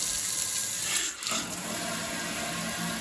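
Water runs in a steady, loud rush from a newly installed kitchen sink faucet, with a brief dip as the flow shifts, and no talking.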